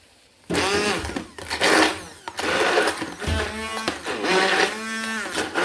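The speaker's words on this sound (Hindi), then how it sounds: "इसको हैंड ब्लेंडर से ब्लेंड करके रखूँ।" A hand blender whirs loudly and steadily up close while blending food in a kitchen, its motor pitch rising and dipping in several pulsing bursts.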